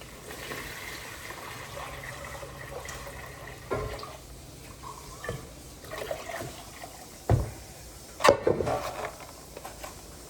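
Salted water poured over duck eggs in a container for homemade salted eggs, a soft liquid trickle with a few sharper splashes and knocks near the end, fairly close and with no talk.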